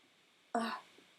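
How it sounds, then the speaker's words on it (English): A single short throat burp sounds once, close and fairly quiet, against faint background hiss and nothing else. "I'm a real life person who does throat burps sometimes."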